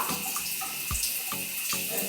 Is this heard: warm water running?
yes